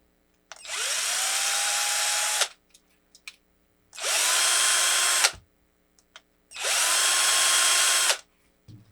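Three bursts of a small power drill with a 2.5 mm bit, each whirring steadily for about two seconds with short pauses between, close and fairly loud, with faint clicks in the gaps.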